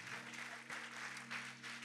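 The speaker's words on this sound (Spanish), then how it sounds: "den un aplauso grande al Señor" Applause from a church congregation during an MCM church service, a steady wash of clapping filling the whole short moment with no voices over it.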